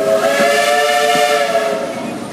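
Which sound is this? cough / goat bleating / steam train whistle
steam train whistle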